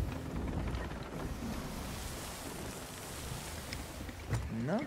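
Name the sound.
ocean waves and boat in Sea of Thieves video game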